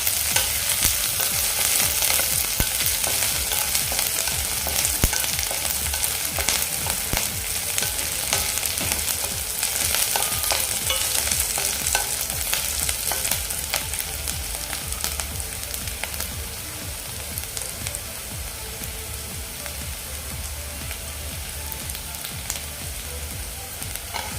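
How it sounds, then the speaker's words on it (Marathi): Curry leaves and green chillies sauté in hot oil for upma, a steady loud sizzle with frequent stirring scrapes running for the whole stretch, no voices over it. "आणि कढीपत्ताही घालून घेऊया व्यवस्थित असं परतून आहे"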